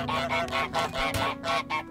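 Repeated goose honks from Untitled Goose Game, five or six loud nasal blasts in a steady rhythm over a constant low game-music hum, close and prominent.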